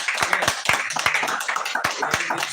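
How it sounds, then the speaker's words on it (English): Several hand claps ring out in a loose, irregular rhythm during a casual sitdown talk, close and fairly loud, with no voices over them. "Hand claps, man."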